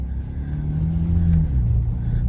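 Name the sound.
sports car engine in sport mode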